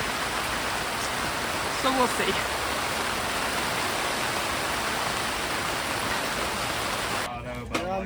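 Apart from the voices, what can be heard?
heavy rain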